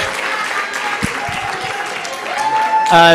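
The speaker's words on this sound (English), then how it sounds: "Just another round of applause to those winners, please." Festival audience applauding competition winners, steady crowd clapping under a voice talking, ending in a brief louder burst with a tone sounding out.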